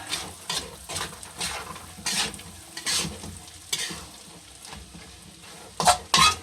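Bopis with carrots and radish is stirred in a pot, giving repeated scraping strokes in an uneven rhythm over a faint simmering sizzle, with a couple of louder clanks near the end.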